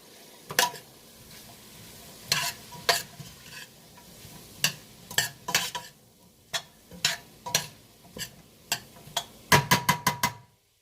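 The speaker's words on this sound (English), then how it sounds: "Give that a nice stir." Onions sizzle in a hot pot over high heat as a metal spoon stirs them, giving repeated sharp clanks and scrapes against the pot over a soft, steady frying hiss, with no talking.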